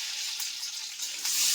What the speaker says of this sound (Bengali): তেল দিয়ে আলু একটু লবণ দিয়ে ভাজিয়ে নেব।